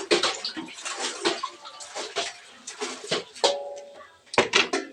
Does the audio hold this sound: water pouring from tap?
yes